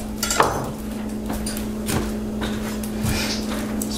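A knife cutting a Spanish onion in half on a cutting board, a few dull thuds and knocks with light clatter, close over a steady low hum.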